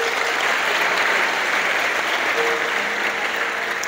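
Steady, dense audience applause at a motivational seminar for students of Al Bayan and Alfafa in Banten, a loud continuous wash of clapping that holds evenly from start to finish with no voices over it.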